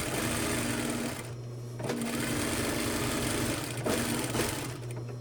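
A sewing machine runs steadily while stitching a cuff, a loud rapid mechanical whir that pauses briefly twice and then starts up again.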